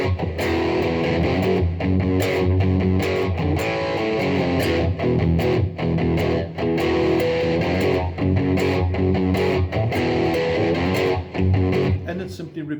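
Guitar playing the bridge of a song, a dense, continuous strummed and picked passage with a distorted tone, loud and steady throughout with a driving rhythm.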